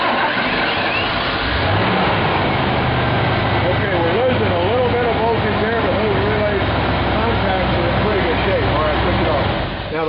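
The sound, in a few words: car engine starting and running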